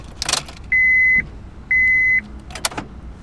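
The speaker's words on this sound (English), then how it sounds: "whenever you stop the car, the doors unlock. Whenever you start the car, they lock. So when you put the key into accessory, you might be able to hear it actually." Power door locks on a car actuate as the ignition key is turned to accessory: sharp mechanical clunks close by, before and after two steady electronic beeps in a quiet cabin.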